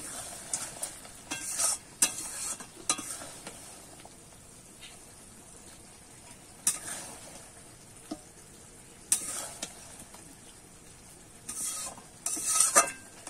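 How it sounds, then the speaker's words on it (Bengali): A simmering Bengali bhetki fish bone curry is stirred in a pan, producing intermittent scraping and clinking bursts of a spoon against metal over a low, soft bubbling sizzle between strokes. "এবার একটু নেড়ে নিচ্ছি।"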